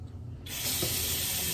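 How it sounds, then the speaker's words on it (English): A tap turns on and water runs over hands being washed, a soft hiss that starts abruptly after a brief quiet moment and continues steadily. "first I'm gonna wash my hands"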